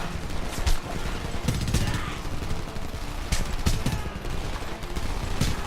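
Rapid machine gun fire and scattered gunshots crackle through a firefight in the video game Homefront, dense bursts overlapping at close range with a voice briefly audible beneath the shooting.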